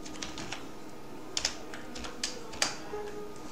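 Someone types on a computer keyboard with soft, irregular clicks and a few sharper keystrokes, close by in a quiet room.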